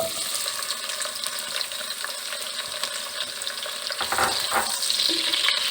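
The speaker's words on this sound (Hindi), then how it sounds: "ऑयल गरम हो चुका है, हम इसमें अनियन ऐड करेंगे" Onion frying in hot oil, a continuous bright sizzle heard up close and alone, growing a little louder and busier toward the end as it is stirred.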